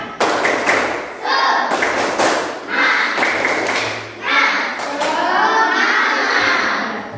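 A classroom of children in Indonesia clap and thump rhythmically while chanting together loudly in a group cheer, with shouting voices layered over the beats.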